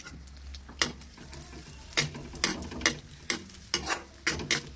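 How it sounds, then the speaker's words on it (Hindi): Raisins frying in oil in a pan while making gujiya, heard as soft sizzling with a series of sharp scraping taps from a spoon stirring against the pan, close and fairly quiet. "अब हम किशमिश भून लेंगे।"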